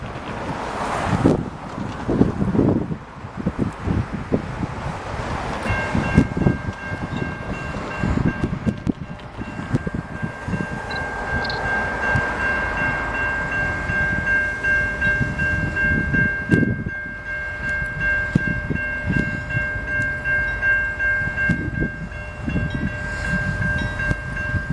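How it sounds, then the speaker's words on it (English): A CN freight train rumbles past at Waverly Street in Winnipeg, Manitoba, its long horn blast sounding for many seconds over the clatter of wagons, with wind buffeting the microphone throughout. "Okay, everyone, CN train at Waverly Street."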